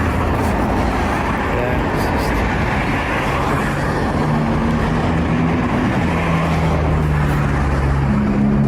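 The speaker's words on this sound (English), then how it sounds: "So what's the issue with the car being a bit louder?" A car's loud engine rumbles steadily throughout, a dense low roar with a few drawn-out tonal hums rising over it toward the end, heard as if from inside or beside the vehicle.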